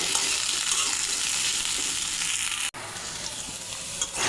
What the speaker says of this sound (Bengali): আলুটাও ভেজে নিচ্ছি